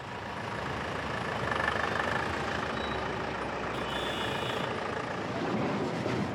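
A truck engine idles and creeps along a foggy Himalayan mountain road, a steady, moderately loud low diesel rumble with a faint whining tone and a brief higher hiss partway through.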